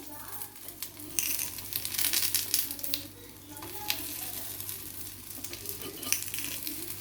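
Paniyaram batter frying in the cups of a paniyaram pan as the bottoms brown: a steady, low sizzle with small crackles and a few light scraping and tapping sounds, fairly faint and continuous throughout.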